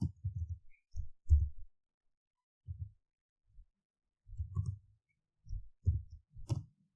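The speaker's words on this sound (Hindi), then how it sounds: "यहाँ पे मैं कुछ टाइप करता हूँ" Typing in Microsoft Word on a computer keyboard: sparse, faint clusters of muffled key taps separated by silent gaps, close and isolated with no talk.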